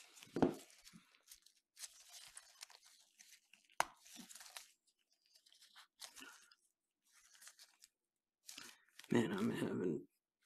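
Plastic wrapping on a 2021 Pro Set Metal baseball hobby box is cut and torn open, producing scattered crinkles, rips and snips close by, with short pauses between them and a louder tearing burst near the end.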